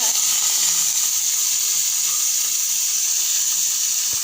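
Marinated prawns fry in a pan for the Bengali dab chingri dish, giving a steady, even hiss of sizzling oil without pause at moderate, close volume.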